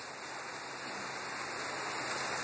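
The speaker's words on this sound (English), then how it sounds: "It's raining." Rain falls in a steady, dense hiss of broadband patter with no pauses, fairly loud and even from start to finish.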